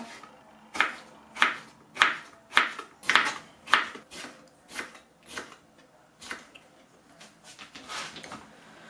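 A knife cuts small, lightly salted pickled cucumbers into half-slices. There are about a dozen crisp, close cuts in a steady rhythm, loudest early on, then growing softer and more spaced out.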